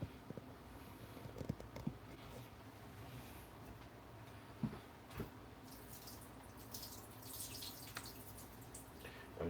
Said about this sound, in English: So I'm going to rinse these off quick.